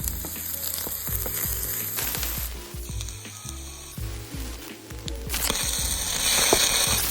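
Finely chopped onion and garlic fry in oil and melted butter, a loud dense sizzle with clinks and scrapes of stirring in the pan.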